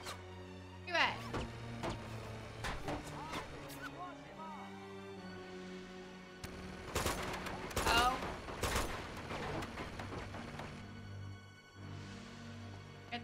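Enemy gunfire in Uncharted 2: rapid bursts and single gunshots crack through a droning game soundtrack, with a dense volley around seven to nine seconds, while someone talks over the action.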